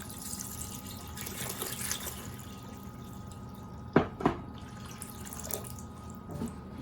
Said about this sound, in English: And now we're going to add our syrup with our cooked plums.